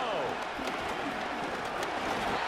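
Simulated stadium crowd in a Madden NFL 25 Chicago Bears vs Detroit Lions game, a steady roar of cheering and applause under commentary talk.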